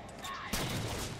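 A burst of gunfire in the video game Halo: The Master Chief Collection erupts suddenly and continues as dense rapid shots, moderately loud.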